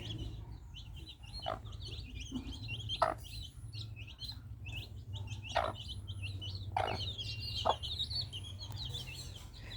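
Four chicks peep in rapid high chirps throughout, with a mother hen's occasional soft clucks and a steady low hum underneath.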